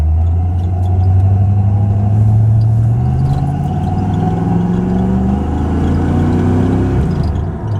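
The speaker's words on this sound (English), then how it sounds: "And that was about giving it 3/4 throttle there." A 1980 car engine revs at about three-quarter throttle, a loud close drone that climbs steadily in pitch, holds high, then eases off near the end.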